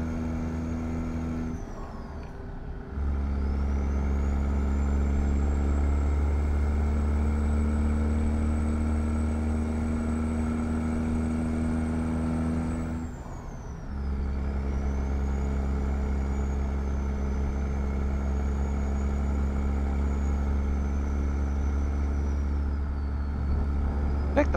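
A heavy truck engine in American Truck Simulator drones loud and steady, dropping briefly with an air-brake hiss near the start and again midway before the low rumble resumes.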